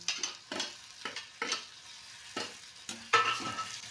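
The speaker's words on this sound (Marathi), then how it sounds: "कांदा भाजलेला आहे त्याच्यामध्ये आपण आता टमाटर घालूया" Tomatoes go into a pan of frying onion, with a steady sizzle and five or six close, scraping stirs at a regular pace, ending in a louder clatter of the spoon against the pan.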